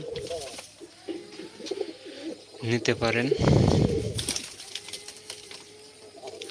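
Pigeons in a loft coo softly and repeatedly as someone talks over them, their low burbling calls running under his speech.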